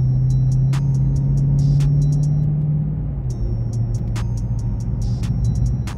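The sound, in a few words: sports car engine exhaust crackles and pops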